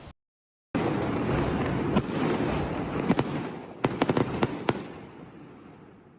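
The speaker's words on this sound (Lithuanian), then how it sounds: "Kodėl dienos metu fejerverkai?" Fireworks go off in daytime near a parking area in a town in Madeira, a dense crackling barrage at moderate distance followed by several sharp, separate bangs that trail off into fading crackle.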